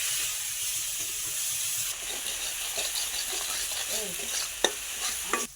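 Spices fry in oil for a rohu fish curry, with a steady close sizzle as they are stirred in the pan, a few sharp spoon scrapes near the end, no voices.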